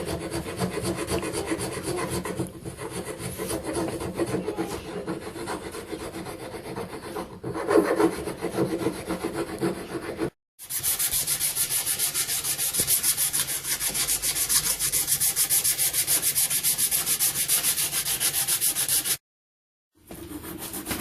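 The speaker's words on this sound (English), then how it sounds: "we've sanded it to 220" A wooden hand plane tote is sanded to 220 grit with steady, close rasping strokes, two long passes broken by short silent gaps, with no talking.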